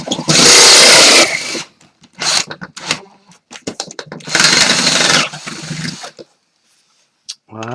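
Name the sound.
drilling a 16 mm hole in a metal enclosure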